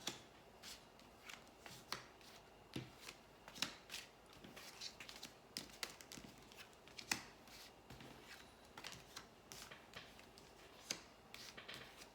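A tarot deck is shuffled for a reading, giving quiet, irregular bursts of crisp card flicks and riffles with soft handling noise between them and no voices.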